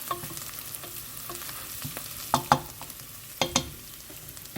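Tomato paste and ginger sizzle in a hot pan with a steady soft frying hiss, broken by several sharp clicks and scrapes of stirring against the pan; no one speaks.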